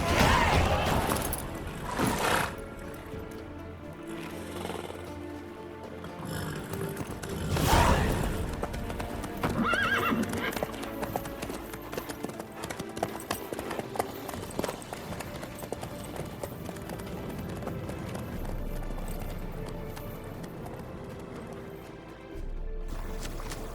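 Horse hooves clip-clop steadily in The Witcher 3, a soft, continuous rhythmic patter under game ambience and occasional louder clatters, with talk now and then.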